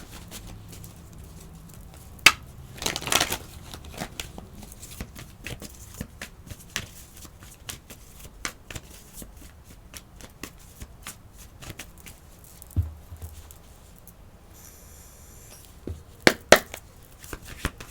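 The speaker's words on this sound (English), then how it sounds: "Sorry again, I have to shuffle here." Tarot cards being shuffled by hand, with repeated soft riffles and snaps scattered across a quiet background.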